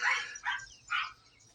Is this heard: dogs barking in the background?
yes